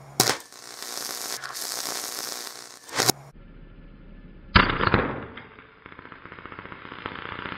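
A graphite pencil blasted apart by 590 volts gives loud, sharp cracking bursts with a fizzing crackle, then a harsh sustained buzz that rises abruptly and holds close by.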